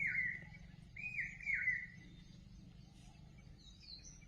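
Birds calling in a forest, with a cuckoo-like repeated call standing out over a low background hum, fairly faint and distant.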